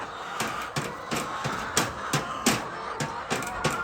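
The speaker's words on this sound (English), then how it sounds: "he's kicking with his hooves the metal to get the rabbit poop" Repeated metallic clanks at a steady rhythm, like hooves striking a metal container, ringing over a constant background hiss.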